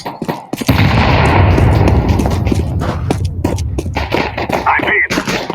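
A grenade blast in Counter Strike 2, a loud close boom rolling into a long roar, with rapid gunfire crackling around it and no talk.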